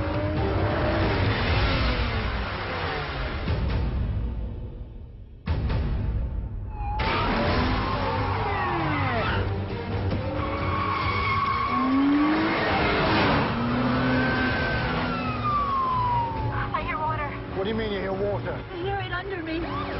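BMW car speeding through a film chase directed by John Woo, engine revving and tires squealing over a dense score, with brief dropouts and a few voices mixed in.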